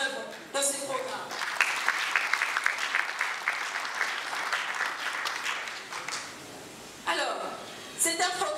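Audience applause for a government programme team at a political presentation, a sustained wash of clapping that builds and holds for several seconds, then fades, with a couple of short renewed bursts near the end.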